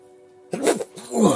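A single sharp human sneeze bursts out after a moment of near silence, close and loud, followed by a second breathy burst like a cough or a throat clearing.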